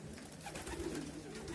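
Racing pigeons cooing softly just after returning from a morning training flight at a loft, a low continuous murmur of several birds with background hiss.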